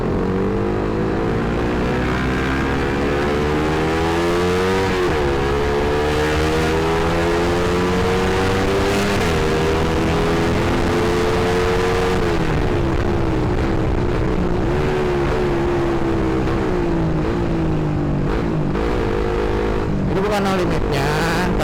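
A Suzuki GSX-R150 motorcycle engine revs loudly and continuously, its pitch climbing and dropping through repeated long pulls. A voice may be faintly present under the engine.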